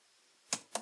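Two quick, sharp keystrokes on a computer keyboard, close and fairly quiet, separated by a brief gap after near silence.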